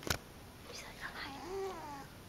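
A cat in a small horse barn gives a few faint, drawn-out meows, soft and close in otherwise quiet surroundings, with a brief click at the start.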